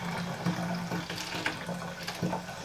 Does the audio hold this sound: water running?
yes